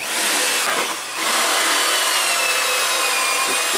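Power drill boring out a hole in wood for a pocket door lock in a tiny house build, a steady loud whirring grind that dips briefly near the start before resuming without talk.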